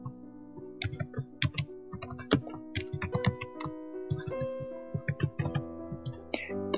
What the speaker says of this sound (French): il va me demander de saisir mon mot de passe, voilà, je le tape.